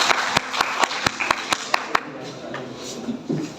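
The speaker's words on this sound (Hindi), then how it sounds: "तो आपके भरपूर तालियां में डॉक्टर सकलैन ज़हीर साहब।" At a university International Flower Day gathering in Rahim Yar Khan, scattered clapping breaks out with a few sharp, distinct hand claps standing out over a thinner crowd, fading after a couple of seconds into faint room murmur.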